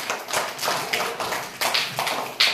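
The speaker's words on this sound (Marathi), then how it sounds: "टाळ्या वाजवून स्वागत करा यांचं।" Hands clap in welcome during a group children's game, a run of soft, quick, irregular claps from several people, close and moderately loud with no voices over them.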